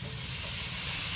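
Mashed potato dropped into a hot pan for veg patties sizzles and hisses in a dense, continuous, close-up fry with a low rumbling undertone, steady throughout and without voices.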